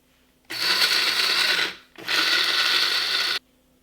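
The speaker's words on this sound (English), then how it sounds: "And then grind it into the powder." Dry spices being ground to powder in an electric spice grinder, run in two loud continuous bursts of whirring and rattling with a brief pause between them.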